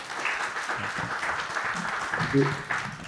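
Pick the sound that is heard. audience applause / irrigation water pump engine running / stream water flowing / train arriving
audience applause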